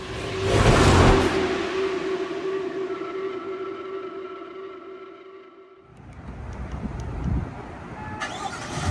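A 2022 Chevrolet Tahoe Texas Edition SUV starts up: a cranking surge swells into a loud engine roar that settles into a steady idle hum, then drops off, followed by quieter mechanical sounds.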